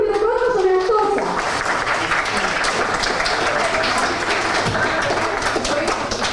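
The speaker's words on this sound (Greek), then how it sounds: "Γι' αυτό θα δώσω ένα πολύ μεγάλο χειροκρότημα στον εαυτό σας." A large audience at a children's celebration breaks into loud, sustained applause with some cheering, a brief spoken phrase at the start before the clapping swells and continues steadily.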